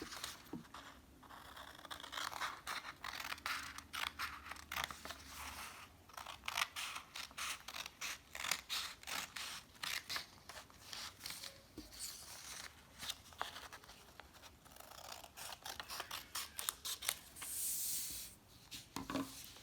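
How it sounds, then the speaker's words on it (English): Scissors snip off excess paper while a DIY paper box is being made, giving a long run of quick, close crisp cuts and paper rustles with short pauses between them. "And then we'll cut all that extra off."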